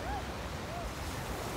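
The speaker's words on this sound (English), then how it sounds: "the waves are actually very quiet, not too much waves" Gentle, quiet ocean waves wash onto a beach at sunset in a soft, faint, continuous hush, lightly mixed with breezy air.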